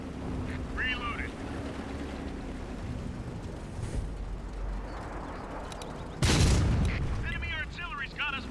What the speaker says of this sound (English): Enemy artillery's got us pegged.